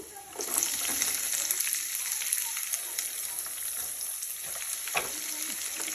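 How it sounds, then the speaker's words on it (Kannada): Chopped onions tipped into hot oil with mustard seeds, cumin and browned urad dal, setting off a loud, steady, close sizzle that runs the whole time with small crackles on top. "ನಾನೀಗ ಈರುಳ್ಳಿ ಹೆಚ್ಚಿಟ್ಟಿರುವಂತಹ ಈರುಳ್ಳಿಯನ್ನು ಹಾಕ್ತಾ ಇದ್ದೀನಿ"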